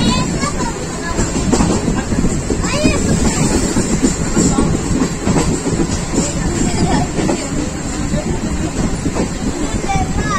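A Pakistan Railways rail car on the Rawalpindi to Gujranwala route rolls into Chaklala station with a steady rumble and rattle of wheels on track, plus wind buffeting close to the microphone throughout.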